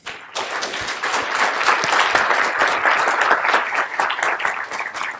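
Conference audience breaking into applause after a speaker's talk, a loud, dense burst of many hands clapping that rises quickly and stays sustained, close and with no voices over it.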